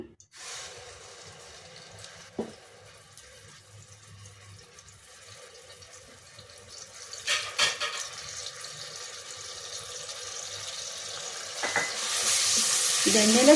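Ground paste of pepper, onion, garlic and ginger frying in oil for an egg and chicken curry gives a soft, steady sizzle with occasional stirring scrapes, swelling into a louder, brighter hiss toward the end.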